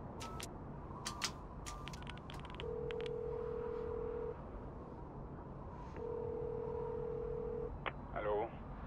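A telephone in the video game Beyond Two Souls gives two long, steady ringback tones amid faint clicks and room ambience, followed by a short creaking sound at the end.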